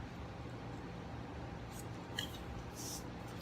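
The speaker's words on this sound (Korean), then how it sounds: "지금 있는 패런을 힘을 주고 잘라 보겠습니다" Scissors snip steadily through a paper gored-skirt pattern at close range, with soft rubbing of paper and a few sharper cuts near the end, and no talking.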